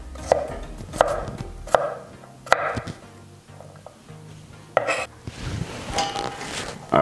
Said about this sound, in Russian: А теперь нам нужно нарезать редиски.